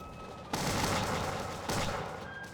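Massed musket volleys from an 1700s-era Bannerlord battle, two dense roaring bursts of gunfire, loud and close, the second following about a second after the first.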